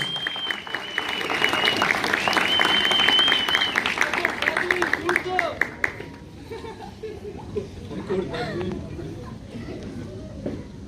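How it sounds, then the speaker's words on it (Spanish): Audience applause at a school graduation ceremony for ninth grade and secondary students, a loud sustained burst of clapping from a crowd that slowly thins and fades, with cheers and chatter mixed in. "Convocamos y el aplauso para Karen Lisset Mesa Ábalos."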